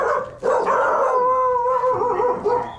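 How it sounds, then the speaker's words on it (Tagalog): Several dogs howl together in long, wavering tones with a few barks mixed in, loud and fairly close, no talking. "May mga aso ang ingay."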